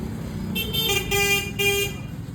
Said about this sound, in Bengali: হর্নে হাত দিয়েই গাড়ি চালায়